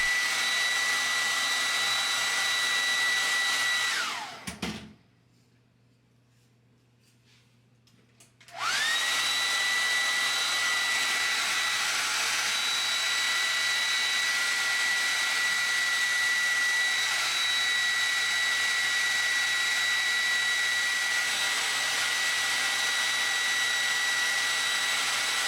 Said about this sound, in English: The reason for blow drying this way, so that you won't get frizzy hair.